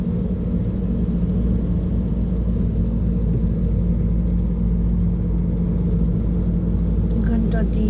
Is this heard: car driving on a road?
yes